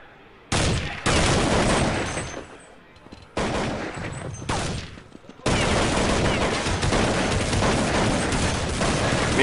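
In a professional Counter-Strike match, gunfire comes in sharp loud bursts, with a few short volleys separated by gaps and then a sustained stretch of rapid shooting to the end.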